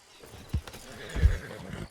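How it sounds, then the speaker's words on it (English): A horse in Red Dead Redemption 2 gives a short snort and then a louder neigh, close and clear, with a hint of hoof movement and no talking. "damn horse acting up on me, of all the times"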